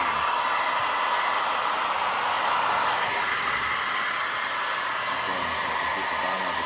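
A hair dryer heats the bottom of an Adidas Yeezy 350 Boost shoe, producing a steady, close, continuous blowing whir with no breaks and no voices.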